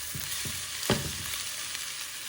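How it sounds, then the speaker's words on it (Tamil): Mixed vegetables sauté for Sri Lankan kothu roti, sizzling steadily in a pan with a few soft stirring scrapes and one sharper clink, close and moderately quiet. "எல்லா மரக்கறியுமே வதங்கிட்டுது."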